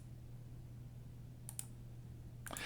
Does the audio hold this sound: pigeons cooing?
no